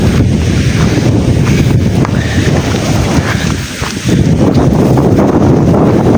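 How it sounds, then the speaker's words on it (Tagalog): Strong wind roars steadily and loudly into the microphone, a constant buffeting rush with only a brief dip near the end. "Kalakas ng hangin."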